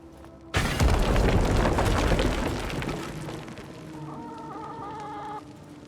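A loud boom of a wall exploding in Assassin's Creed Mirage gives way to chickens clucking nearby, their agitated calls continuing over the fading rumble.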